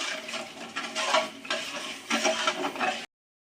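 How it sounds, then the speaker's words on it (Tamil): Wheat halwa with milk being stirred continuously in a pan as it thickens, heard as repeated scraping, sloshing strokes in uneven bursts, close and moderately loud, ending in abrupt silence. "ஊற்றிக்கிட்டு நம்ம கை விடாமல் கிண்டிக்கிட்டே இருக்கணும்"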